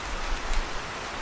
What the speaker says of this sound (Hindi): जंगल में बहुत तेज बारिश हो रही थी।